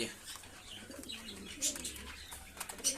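Kaldoma Giribaz pigeons cooing softly in a loft, low murmuring coos rising and falling over about three seconds, with faint rustling and occasional chirps; someone speaks quietly at times.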